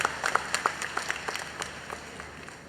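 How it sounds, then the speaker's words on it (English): Audience applause from an orientation-week welcome event for freshmen and parents, honoring council members and the O Week team; moderate, scattered clapping that fades gradually over a few seconds with no talk. "A big round of applause for our council members and the O Week team."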